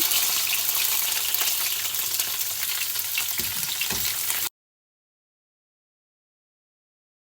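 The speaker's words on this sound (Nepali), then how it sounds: "अब हाम्रो तेल पनि तातिसकेको छ र अब फर्स्टमा चाहिँ लसुन र प्याजलाई हालिदिउँ है।" Garlic, onion and green chilli frying in hot oil over a high gas flame, a steady close sizzle that runs loudly for several seconds and then cuts off abruptly.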